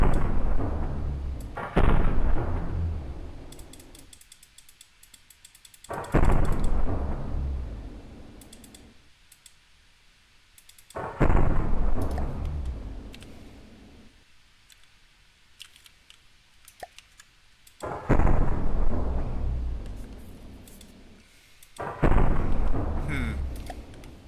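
Particle accelerator cannon in From The Depths firing in sharp, loud blasts, roughly every five seconds, each followed by a fading crackling tail and near-silence.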